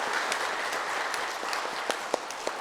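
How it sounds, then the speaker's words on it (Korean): A church congregation at a Sunday worship service applauds in a steady, moderately loud patter of many hands, with a few sharper individual claps near the end. "박수 한번 하겠습니다."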